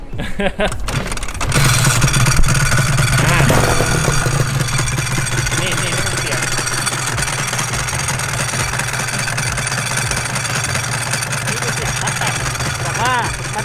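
A two-stroke Honda NSR250 sport motorcycle engine idles close by with a buzzy, rattling tone, a couple of sharp pops at the start, then a steady drone.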